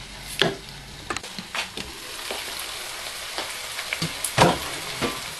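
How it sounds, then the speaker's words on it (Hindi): A lemon juice, spice and yogurt marinade being mixed in a pot, heard as repeated wet scraping strokes and soft clatters of the spoon over a constant sizzling hiss. "अब हम इसमें जो मिक्सचर रखा था लेमन जूस डाल के और स्पाइसेस, योगर्ट, यह अब हम मिक्स कर रहे हैं"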